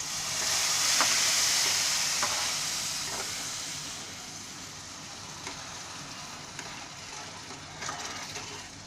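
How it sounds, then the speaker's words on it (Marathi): Hot milk poured into semolina roasting in ghee for sheera, giving a loud steady sizzle and hiss that peaks early and slowly fades, with faint stirring ticks. "अर्धा लिटर हे गरम करून ठेवलेलं दूध आहे, ते आता मी त्या रव्यामध्ये ओतते"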